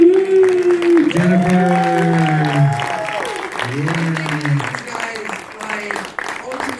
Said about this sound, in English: we have to give a huge round of applause